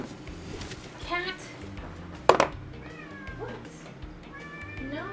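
A pet cat meows and caterwauls repeatedly at fairly close range over steady background game music, while a person briefly speaks.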